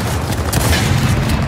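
Rapid gunfire in the video game Gears of War 4 plays as a dense, loud burst of booming shots that blur into one continuous barrage.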